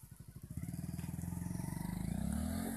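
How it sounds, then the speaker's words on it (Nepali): A motorcycle stuck in mud on a rough hill road revs in a fast rapid putter that rises and grows louder over a few seconds, fairly close. "उता मोटरसाइकल फसेको अवस्था पनि देखिसक्नु भएको छ"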